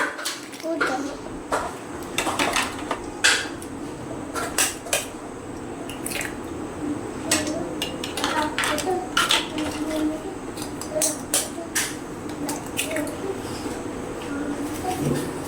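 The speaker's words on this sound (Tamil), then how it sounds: "முட்டையை உடைச்சு ஊற்றணும்" Three eggs are cracked and poured into a bowl for a potato omelette, with sharp clinks and taps against the dish repeating throughout among other kitchen clatter at close range.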